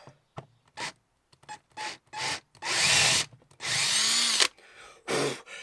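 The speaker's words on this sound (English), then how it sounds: "So we're just going to drill the hole in here now." A power drill runs in short bursts, then two longer sustained runs as it bores a hole in a Caddy Maxi van during a camper conversion, with brief pauses between.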